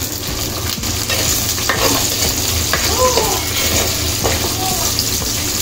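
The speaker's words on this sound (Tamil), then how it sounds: "இப்போ நம்ம அரைஞ்சி வச்சிருக்கிற சின்ன வெங்காயம் அதையும் சேர்த்துக்குவோம்." Ground shallots frying in hot oil in a clay pot, a steady loud sizzle close by with scattered scraping and clinking stirring sounds throughout.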